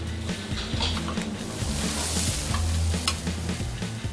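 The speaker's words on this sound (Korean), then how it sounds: "만들어지는 동안 따로 간을 하지 않은 떡갈비는 구우면서 간장 양념을 입혀줍니다." Unseasoned tteokgalbi, grilled short rib patties, cooking over a fire at a century-old Damyang restaurant while brushed with soy sauce glaze; a loud, dense, continuous sizzle and crackle with scraping, close up and without speech.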